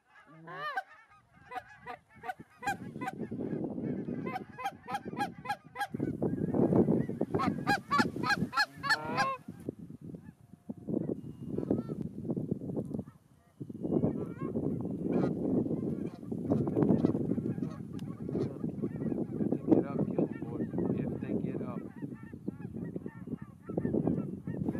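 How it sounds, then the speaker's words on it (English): A flock of geese honking at sunset on a Kansas hunting trip, a dense, continuous chorus of calls that grows fuller as the birds come in, fairly close and alone without talk. "the first line of geese appear on the horizon about an hour before sunset"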